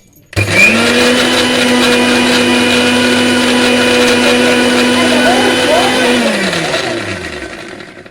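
A mixer grinder starts abruptly and whirs loudly at a steady high pitch for several seconds, then winds down as the motor slows to a stop.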